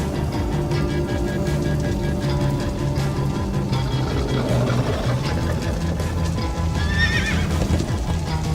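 A horse neighs and whinnies over rhythmic clip-clop hooves in Minecraft: Story Mode, with a steady game soundtrack underneath and a sharp high whinny near the end.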